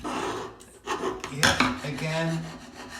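Silicone sealant residue being scraped off after treatment with Xpro Multisolve remover spray, giving close, rasping scrapes in uneven bursts with brief speech.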